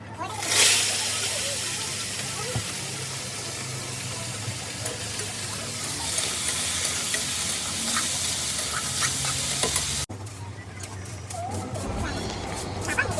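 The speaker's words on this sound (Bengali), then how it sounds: "আলুটা ভাজা ভাজা বসিয়ে" Potatoes fry in hot oil with a continuous broad sizzle and hiss, and a voice talks over it throughout.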